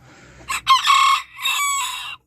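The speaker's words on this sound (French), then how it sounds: "Et on a un coq, c'est un barbu d'Everberg." A Barbu d'Everberg rooster crows loudly and close in one full cock-a-doodle-doo, a short opening note followed by two long strained phrases, alone in a quiet backyard setting.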